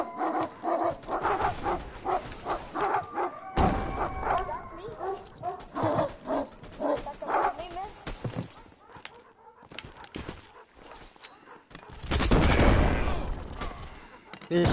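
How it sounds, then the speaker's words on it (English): Several dogs bark in loud, overlapping bursts, some near and some farther off, with sharp sudden noises mixed in and a burst of harsh noise near the end; shouting voices can be heard among the barking. "There's six dogs!"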